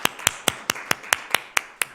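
A church congregation at a New Year thanksgiving service claps together, sharp hand claps landing in a steady, even rhythm, about nine crisp beats in two seconds, with no voices over them.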